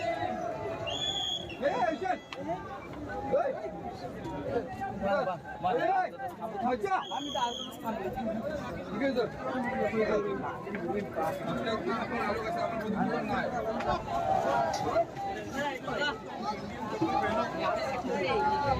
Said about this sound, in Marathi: गर्दी बघा किती आहे भरपूर गर्दी आहे